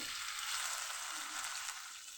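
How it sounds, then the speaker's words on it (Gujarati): Steady, even sizzling of turmeric frying in hot ghee, continuous and close, with no talking. "એટલે આપણે હળદરને સાતળી લેશું"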